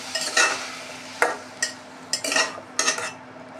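Chicken with chilli powder and spices stirred and sautéed in a pan, with a soft steady sizzle broken by several sharp scrapes and clinks of a spoon against the pan, close and alone.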